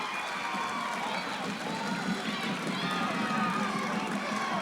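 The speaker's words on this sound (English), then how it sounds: "that makes the crowd a little happy. I'll tell you, makes the crowd happy big time" A crowd at a high school girls basketball game cheers and roars steadily throughout, loud and continuous, while a commentator talks over it.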